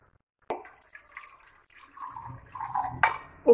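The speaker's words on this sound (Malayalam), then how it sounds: "നമുക്ക് ഇതിലേക്ക് ഒരു മുക്കാൽ കപ്പോളം വെള്ളം ഒഴിച്ചു കൊടുക്കാം." About three quarters of a cup of water poured into strained amla juice in a kitchen vessel: a sharp clink, then a short, close splashing trickle that swells toward the end, with no voices.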